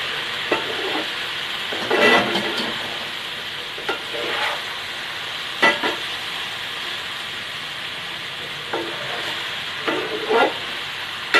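Okra frying in a pan gives a steady broad sizzle with intermittent scraping bursts of stirring, close and moderately loud, no voices.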